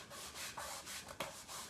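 A cloth rubs wax over painted furniture to wet-distress it, wearing through the top paint layer: a steady, close, soft scrubbing in repeated strokes with a brief sharper scrape near the end.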